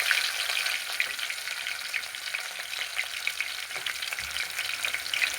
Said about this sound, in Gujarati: આ રીતનું આપણે આ ડુંગળી નાખી દેવાની અંદર